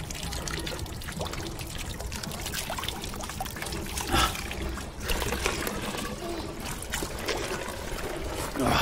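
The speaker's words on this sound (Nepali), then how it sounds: "अनि पानीको ट्याङ्की रहेछ, म चाहिँ पानी पिउनु लाग्छु" Water running steadily from a drinking-water tank tap in Kathmandu, a close continuous pouring and trickling stream with a few brief splashes.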